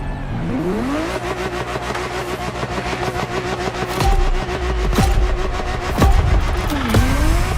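A Ferrari 365 GTB4 Daytona engine in The Crew Motorfest, loud and steady, revving up then holding a sustained rasping drone, with sharp gear-shift dips and a brief lift near the end.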